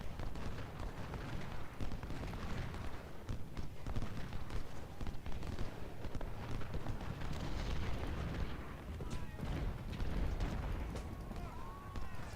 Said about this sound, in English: Gonna try and charge these skirmishers with our cavalry